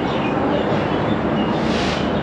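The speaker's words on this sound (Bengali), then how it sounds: "এখনই আমাদের ট্রেন ছেড়ে দেবে, তাড়াতাড়ি ট্রেন ধরতে হবে।" A train departs Banihal station for Srinagar in Kashmir, giving a loud, close, continuous rumble of rolling rail cars with no talking.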